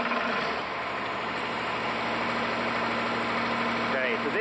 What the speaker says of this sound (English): now it is safe to start the engine